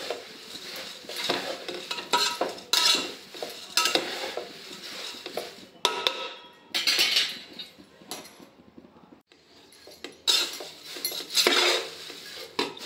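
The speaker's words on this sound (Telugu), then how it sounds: "మంచిగా కలుపుకుంటూ ఇవైతే క్రిస్పీగా వేయించుకోవాలి." Flattened rice (poha) frying until crisp in a pan, with a metal spoon scraping and clattering against the pan in repeated bursts of stirring, close and fairly loud over a faint sizzle.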